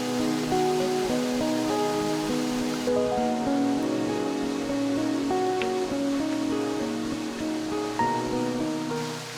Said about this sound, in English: Just follow that stream and it'll take you to this waterfall.